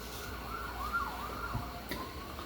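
An ambulance siren wails faintly in the distance, a thin rising and falling tone over a quiet outdoor hush.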